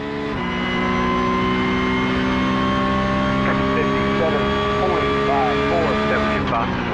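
Porsche Cup race car on a lap in iRacing, its engine holding a loud steady high-pitched drone with gear-shift blips near the end, and someone talking over it.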